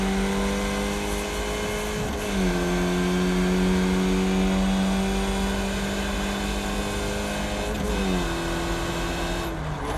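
Skip Barber race car engine in iRacing at Okayama Short, a steady buzzing drone held through long stretches, with two quick gear shifts that briefly drop the pitch before it settles again.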